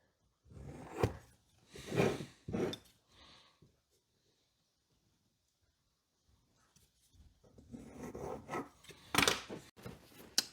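Pencil scratching a line across a scrap wood block, drawn corner to corner to find the center; short raspy strokes in bursts, a quiet pause, then more rubbing marks close up.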